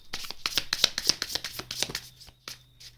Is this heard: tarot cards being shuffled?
yes